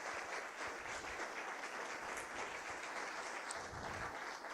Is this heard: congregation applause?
yes